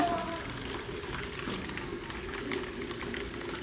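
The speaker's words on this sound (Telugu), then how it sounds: "11:30 నుంచి ఇప్పటి వరకు నాన్ స్టాప్ ఇంకా కుమ్ముతూనే ఉంది వర్షం" Heavy, non-stop rain pours down in Rajasthan, a dense, steady hiss of falling water that stays even and fairly close throughout, with no voices.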